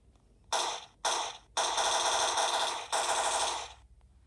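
Automatic gunfire in a Roblox game rings out as two short bursts followed by a long sustained stream, loud and close with brief pauses between, and no talking.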